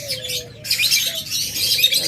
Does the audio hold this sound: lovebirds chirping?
yes